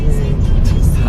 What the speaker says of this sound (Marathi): अशी गाडी चालवत आहे.